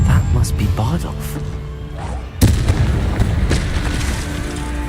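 In Hogwarts Legacy, a Confringo blasting spell lands as a single sharp explosive boom midway, cutting through continuous talking and busy game sound around it.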